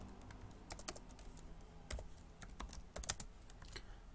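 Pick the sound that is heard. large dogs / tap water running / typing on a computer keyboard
typing on a computer keyboard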